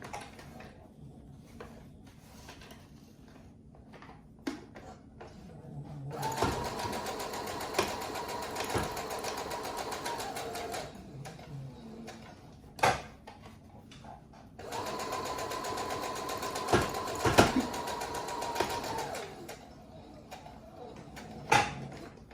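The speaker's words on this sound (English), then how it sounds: "So the next thing I'm going to do is sew this in place to make it even more stationary." A sewing machine stitches a breathable fabric face mask in two long, loud runs of rapid mechanical whirring, separated by quieter handling, clicks and fabric shuffling.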